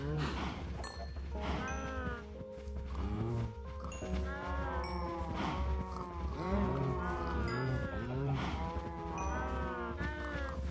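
Cows on a farm in the game Minecraft moo continuously, many overlapping low drawn-out calls mixed with bleating from other livestock, a busy dense chorus of animals at moderate level.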